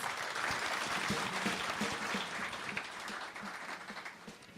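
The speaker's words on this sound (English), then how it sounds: "Can I get a round of applause for our panel, please?" Audience applause after a live podcast panel fills the recording, steady and fairly soft throughout, with a few louder claps standing out.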